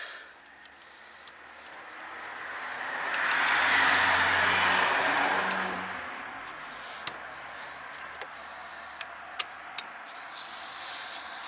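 A steady broadband hiss of gas escaping from a loosened car LPG fitting swells for a few seconds, then eases, with faint metallic ticks and clicks scattered throughout.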